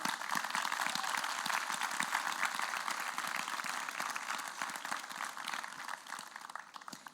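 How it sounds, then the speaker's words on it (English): A dense, steady round of applause from a literature festival audience in a theatre, many hands clapping continuously for about seven seconds, fairly even in loudness and tapering slightly at the end. "please join me in giving a big, big, big round of applause to all of you who are part of this journey"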